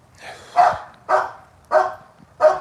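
Ruby, a spunky bandog kept among pit bull terriers and mastiffs, barks four times in a steady rhythm at close range. Each bark is loud and sharp, with faint background noise between them.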